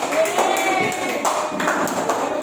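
Primary school classmates applaud a student group in an Indonesian classroom: a dense, steady wash of many hands clapping at once, fairly close, filling the whole moment.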